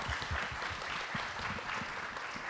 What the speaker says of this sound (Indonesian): boleh kasih aplaus untuk Nadia